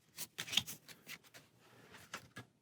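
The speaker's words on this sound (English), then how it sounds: "We only have 1 card, so we'll shuffle that into our deck." Playing cards for the Pathfinder Adventure Card Game, a single card shuffled into a deck: quiet, quick riffling and sliding rustles in a few short bursts, with no talk.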